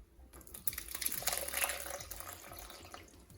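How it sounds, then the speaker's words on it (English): Water runs and splashes steadily for a few seconds as it is poured through a strainer over ginger, a close pouring sound with a faint trickle, no voices. "pour our additional 4 cups of water over the strainer, and allow that water to run through the ginger"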